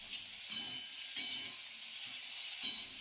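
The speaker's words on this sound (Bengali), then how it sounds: "আলু আর কড়াইশুটি ভালো করে ভাজা করে নিতে হবে" A steady, soft sizzle of potatoes and peas frying in a pan, with a few faint scrapes of stirring now and then.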